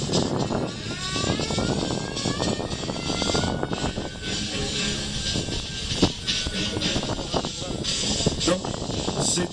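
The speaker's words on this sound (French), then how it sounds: "ce coup-ci, c'est Roger qui est au décollage." Corsair propeller fighter plane taking off at an air show, a loud sustained engine drone with a rising whine, heard from a distance across the field for the whole stretch.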